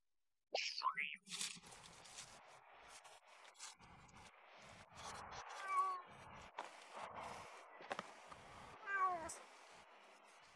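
A cat meows several times at close range, short cries scattered through a rustling, crunching background, with someone talking over it at intervals.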